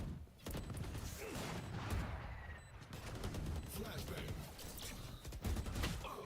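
Rapid gunfire bursts in the tactical shooter Rainbow Six Siege during an esports match, dense and continuous with sharp cracks layered over the game's background noise, while a caster talks over it.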